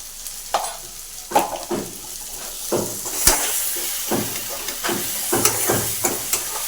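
Fish heads frying in a pan with turmeric powder and salt, stirred repeatedly: a steady close sizzle broken by rhythmic scraping strokes of the spatula, with no talk.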